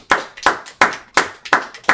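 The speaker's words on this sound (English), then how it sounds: "Clap it up for the brother." Hands clap at a steady rhythm at a Sabbath service, sharp close claps repeating about three times a second with no talk over them.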